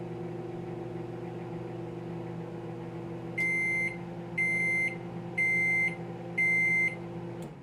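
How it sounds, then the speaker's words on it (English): A microwave oven hums steadily, then gives four evenly spaced, loud electronic beeps near the end to signal the cooking cycle has finished. "I'm gonna microwave it first"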